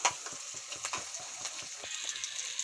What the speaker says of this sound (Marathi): पूर्ण फ्राय होऊ देऊ। छान शिजल्या पाहिजेत ना ह्या तेलामध्ये